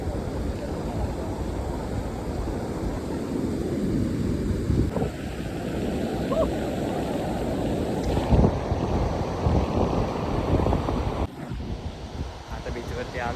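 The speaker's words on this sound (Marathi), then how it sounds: "आता बीचवरती आलोय मस्तपैकी." Wind and surf on a beach at Devgad on the Konkan coast, heard as a steady rushing roar with buffeting wind noise on the microphone, loud and continuous throughout.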